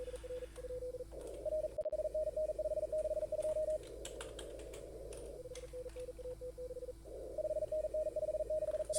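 Steady Morse code tones from contest simulator software, sounding as bursts of rapid beeping separated by short gaps and overlapping a constant background hiss, with no talking.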